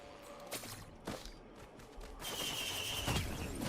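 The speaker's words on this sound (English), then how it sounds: "Fireworks." A Fireworks item in Risk of Rain 2 launches a quick series of sharp pops and whooshing bursts, a few distinct cracks followed by a denser crackling flurry, fairly quiet with no speech.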